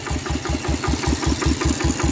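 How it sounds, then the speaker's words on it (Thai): An iron-wheel tractor engine fitted with a loud exhaust pipe, running while ploughing a rice paddy, gives a steady, rapid thumping exhaust pulse, close and loud throughout with no talk. "ท่อตัวนี้เสียงจะดังมากเลยนะครับ"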